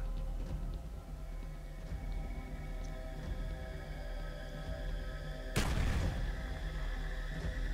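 A frag grenade explodes in Black Ops on the Villa map, one sudden loud boom partway through with a decaying rumble after it, over a steady hum of game ambience.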